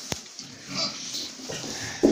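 Piglets grunt on a farm after being fed a starter premix. There are scattered close grunts and snuffles over a rough, noisy background, with a louder grunt at the end.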